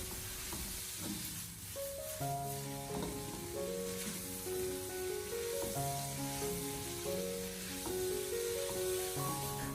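Yuba, wood ear mushrooms and green and red chili peppers are stir-fried over high heat in a wok, a continuous sizzle under a steady musical backing, with no talking.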